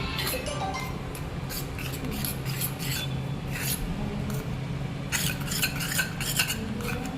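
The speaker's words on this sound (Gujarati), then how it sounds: "બરાબર અને આ બધું મિક્સ કરી દેવાનું" Flour and ghee are mixed by hand in a bowl for samosa dough, making continuous soft rubbing and scraping with a few sharper scrapes toward the end, close and fairly quiet.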